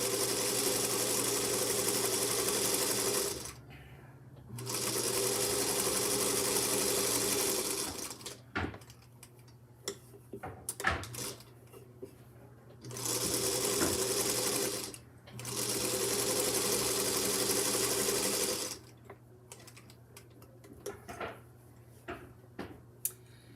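A home sewing machine runs in steady bursts of several seconds each, loud and close, with a continuous mechanical whir. Short pauses and small clicks and handling noises fall between the runs.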